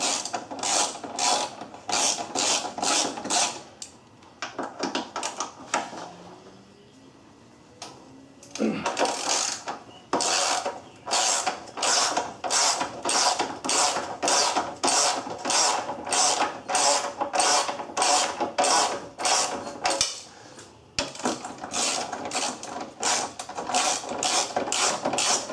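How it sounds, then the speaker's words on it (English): Ratchet wrench loosening 13 mm bolts on a Volkswagen Jetta lock carrier, a rapid metallic clicking heard up close in repeated bursts with short pauses between strokes. "we're going to just start loosening these four bolts up"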